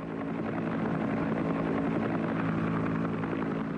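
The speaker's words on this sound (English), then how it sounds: "a wounded man could expect to be picked up by medevac helicopter in less than half an hour" A medevac helicopter in a Vietnam War setting gives a steady, dense rotor and engine drone, continuous and fairly loud throughout with no speech.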